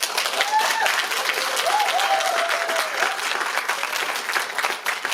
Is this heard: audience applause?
yes